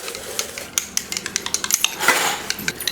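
A spoon stirs a herbal mixture in a glass, clinking sharply and rhythmically against the sides. The taps are close and quick, with a brief scraping swirl partway through.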